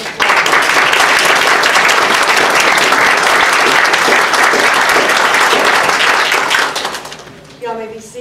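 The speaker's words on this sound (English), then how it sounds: "Let's give the Northwest Rankin ROTC a round of applause." A crowd at a Veterans of Foreign Wars gathering applauds the Northwest Rankin ROTC, sustained dense clapping that holds steady before thinning and fading out near the end.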